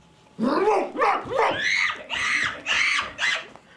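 Barking by performers imitating the two huge dogs in an Animal Farm stage play: a run of about six loud, voiced barks and yelps in close succession, alone and near.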